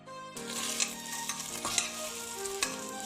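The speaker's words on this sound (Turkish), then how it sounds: "Suyunu çekinceye kadar kavuruyorum." Meat sautéing in a pan for orman kebabı, a steady close sizzle with scraping stirs every second or so as the juices cook off, no voices.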